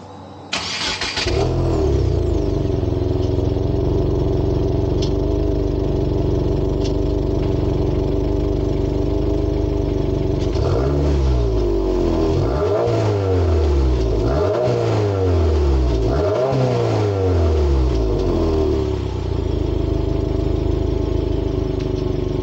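A 2022 Subaru WRX engine starts with a sharp crank, settles into a steady idle, then revs repeatedly in rising and falling pulls as the car drives off, close and loud, no talking.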